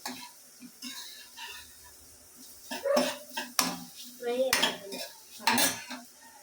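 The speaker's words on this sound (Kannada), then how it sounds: "ರೆಗ್ಯುಲರ್ ಯೂಸ್ ಮಾಡೋ ಪಾತ್ರೆಗಳು ಜಸ್ಟ್ ಟಬ್ಬಲ್ಲಿ ನೀರು ಹಾಕ್ಬಿಟ್ಟು ಹಂಗೆ ಒಂದು ಸ್ವಲ್ಪ ಒಂದೇ ನೀರಲ್ಲೆಲ್ಲ ತೊಳೆದು" Everyday metal utensils are washed in a tub of water at home. They clink and clatter in irregular bursts that grow busier and louder midway, close by, with a few quiet gaps.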